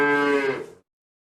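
A bull gives a single loud, close moo, a rich, drawn-out tonal bellow lasting under a second that ends abruptly, followed by silence.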